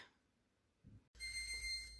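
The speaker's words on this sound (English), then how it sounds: "Okay, timer's going off." A kitchen timer goes off while an omelette cooks, sounding as a steady, fairly loud beeping ring that starts abruptly after a near-silent stretch and continues to the end.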